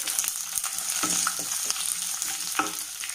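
Ginger, garlic and green chili fry in a pan as the base for a chicken roast. A continuous close sizzle carries several sharp spatula scrapes and taps against the pan.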